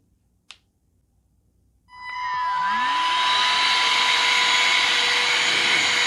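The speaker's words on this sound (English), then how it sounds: "Blowing here, then suction here." A wireless compressed air duster switches on after a single click and spins up into a loud, steady high-pitched whoosh of blowing air that holds to the end.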